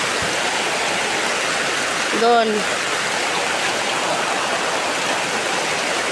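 Heavy rain pours steadily outside a small shop, a dense even hiss filling the whole stretch, with a brief voice cutting in near the middle.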